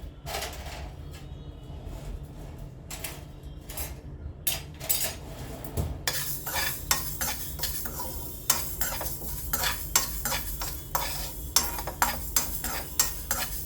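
Fenugreek seeds fry in a pan for a tomato pickle, giving a steady crackling sizzle broken by repeated sharp scrapes and clinks of a spoon against the metal.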